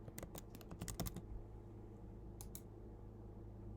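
Clusters of quick clicking keystrokes on a computer keyboard, a rapid burst then a pause and a short final pair, close and quiet over a faint steady hum.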